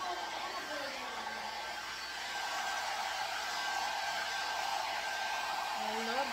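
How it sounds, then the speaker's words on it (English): Small blow dryer drying a dog's ears during grooming, a steady close whooshing hiss of air that runs the whole time and gets slightly louder partway through. "I love this blow dryer."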